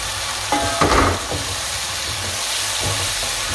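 Chopped tomatoes go into a hot pan while making a savoury vegetable pie, giving a steady sizzle and hiss with brief louder bursts and stirring noises, no talking.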